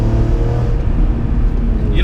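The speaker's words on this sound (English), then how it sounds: "It'll still have a little bit of that metallic rasp, but it kind of turns into more of an aggressive, race car-like sound." The 2004 BMW M3's engine gives off a steady, loud, rough drone with low rumble, running close and continuous under conversation inside the car.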